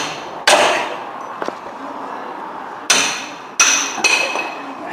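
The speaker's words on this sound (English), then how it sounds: "he wants to chisel in there just to widen it" A hammer drives a chisel to widen an opening on a Renault Clio, giving four sharp metallic blows at irregular intervals, with lighter taps in between, close by against a steady background hum.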